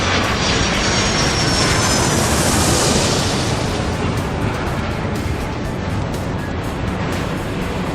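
A scramjet roars down the runway on takeoff in the Airport Madness 3 video game, a loud, steady jet engine rush that swells and then holds, with no talk over it.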